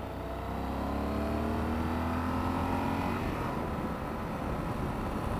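Yamaha XT1200Z Super Tenere motorcycle riding on the road, its engine droning steadily with rising tones as it pulls through the gears, heard close over constant wind and road noise.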